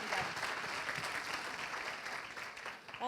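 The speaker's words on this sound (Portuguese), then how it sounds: "para receber com uma calorosa salva de palmas" Audience at a training event for trainers giving a warm round of applause, dense steady clapping at moderate distance that tapers slightly near the end.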